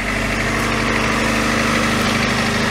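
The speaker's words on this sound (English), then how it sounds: "it fires up and idles smooth as can be" A 1989 Honda Prelude Si engine idling smoothly under the hood, a steady close-up drone with an even low hum throughout and no voices.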